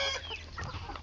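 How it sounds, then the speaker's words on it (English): Thai chickens clucking inside a coop on a farm, a steady close chorus of short clucks and calls filling the whole moment with no talk. "These are my chickens, coop. It's Thai chicken."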